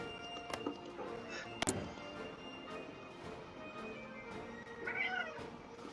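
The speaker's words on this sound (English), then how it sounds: "Meow to you too, my good friend." A cat meows a few times against a steady background hum, with a brief sharp knock partway through; the cries are soft and moderately close.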